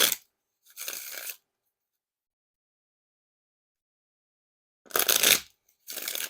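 Red Streamline playing cards are riffle shuffled in short, crisp bursts of rapid flutter, about four separate shuffles spaced apart with silence between them, close and fairly quiet.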